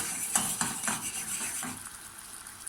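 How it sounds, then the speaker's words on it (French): Ceramic plate lifted off a frying pan holding a caramelized orange cake, with brief scraping and clinking over a steady sizzle, close and moderately loud. "Là, je retire l'assiette et je laisse cuire tranquillement."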